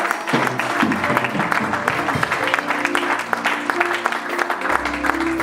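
A church congregation applauds loudly and continuously, dense clapping from many hands filling the room, with some voices and music mixed underneath.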